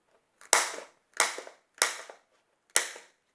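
Four sharp clacks of a paper punch cutting paper scraps, evenly spaced about a second apart, each a crisp snap with a short rattling tail, close by and alone.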